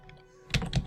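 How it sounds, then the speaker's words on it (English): Keys clatter on a computer keyboard in a burst of several quick, close taps with thunky low ends, after a quiet start. "So let me start typing Bleak Falls."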